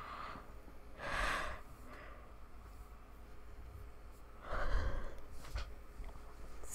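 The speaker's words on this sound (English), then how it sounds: "Excuse me, I don't know why I'm yawning." Yawning: two long breathy exhales swell and fade a few seconds apart, soft and close, with no speech over them.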